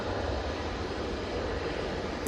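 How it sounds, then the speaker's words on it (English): A Jet2 Boeing 737 rolling for takeoff at Manchester Airport gives a continuous, broad engine roar that holds steady and fairly loud from a distance, with no voices. "Jet2 737 now on the roll. That's off to Skiathos."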